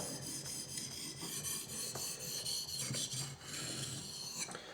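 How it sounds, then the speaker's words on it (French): An Esee 5 knife blade stroked on a 1200 grit Japanese water stone, a soft close scraping rasp in repeated back-and-forth passes with no talk. "ça c'est un grain 1200, on voit, on entend surtout ça. Ça gratte moins"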